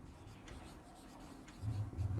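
Pen writing on a board or paper during a Hindi language class, a faint scratching that grows into a few louder strokes near the end, alone without talk.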